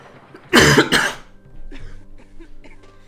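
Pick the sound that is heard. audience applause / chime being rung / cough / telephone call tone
cough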